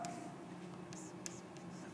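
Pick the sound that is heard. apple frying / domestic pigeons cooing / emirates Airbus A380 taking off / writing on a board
writing on a board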